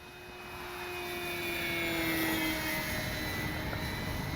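E-flite Sportix RC airplane on a 3S battery flying at full speed with the wind. Its motor whines in a steady high tone that swells as it approaches, then holds near and loud, with no talking.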